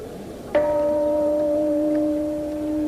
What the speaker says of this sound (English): The quiet was broken only a few moments ago by a young couple tolling the ancient bell mounted near the Hiroshima monument.